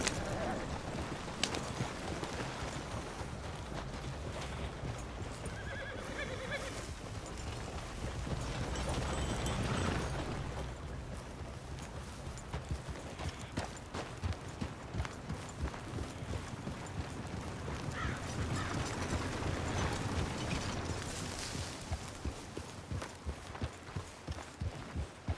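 Horse hoofbeats gallop steadily and loudly in Red Dead Redemption 2, a rapid continuous drumming over a dense outdoor game soundscape for the whole stretch.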